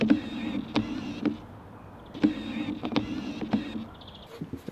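The autofocus motor of a cheap £35 28–300mm zoom lens whirs and buzzes in repeated short bursts, with scratchy clicks between them. It is close and fairly prominent, with no talking.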